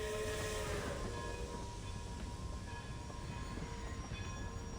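A train pulls into a station with a steady low rumble and rolling noise, and faint tonal squeals and hums from the rail cars run through the sound at moderate distance, with no voices.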